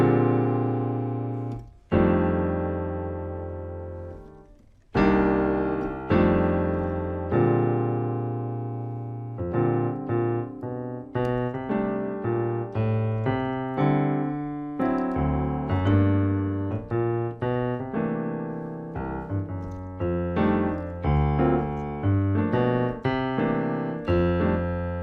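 A solo piano plays a jazz blues with rootless left-hand voicings, rich sustained chords under a flowing right-hand line, steady and moderately loud throughout.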